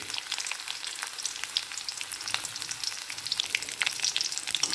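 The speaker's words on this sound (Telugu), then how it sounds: "అల్లం వేగడానికి కాస్త టైం తీసుకుంటుంది" Ginger and cumin seeds fry in hot oil in a pan, a dense, steady crackling sizzle with scattered sharp pops, close and loud, with no talking.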